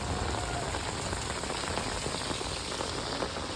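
Heavy rain pours down in a flooding village, a dense, continuous patter on surfaces with no pauses.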